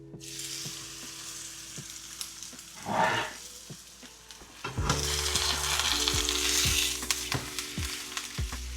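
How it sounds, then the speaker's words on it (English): Pork sizzles loudly in a hot frying pan as it sears, a steady crackling hiss that swells as meat is added and stirred, with occasional clinks of utensils. "Let's get it seared in the pan."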